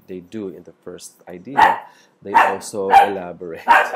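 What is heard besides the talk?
dog barking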